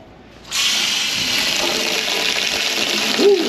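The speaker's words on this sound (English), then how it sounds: "So I'm just using the water straight out the tap." Water from a tap aboard a boat suddenly gushes on and runs steadily in a loud, hissing stream into a container, close by, with a faint voice near the end.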